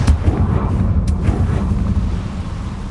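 Confringo blast spell cast in the Hogwarts Legacy video game, a deep booming explosion with a rumbling low tail that lingers and fades over a few seconds.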